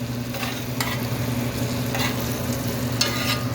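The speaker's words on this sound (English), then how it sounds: "so that way I can tilt this pan and I get all this butter coming down" A steak fries in a pan and is basted with melted butter, giving a steady, close sizzle throughout with a few brief brighter spatters over a low hum.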